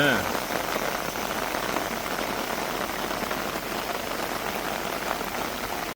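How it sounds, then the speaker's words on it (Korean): Heavy rain pours steadily onto surfaces outdoors after a museum visit in Hita, Japan, a dense constant hiss and patter at close range with no pauses throughout. "우와 지금 비가 엄청 내리네."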